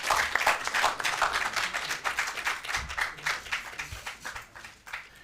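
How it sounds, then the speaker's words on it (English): A studio audience at a university law challenge contest applauds the contestants with dense, steady clapping that stays loud throughout and thins slightly toward the end, with no talking over it. "a round of applause for our contestants"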